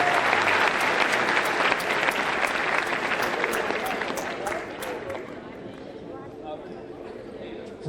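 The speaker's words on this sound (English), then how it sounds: "Let's give Cameron a round of applause for" A crowd at an Arkansas state announcement applauds a volunteer named Cameron, loud and sustained clapping with a voice mixed in, gradually tapering off.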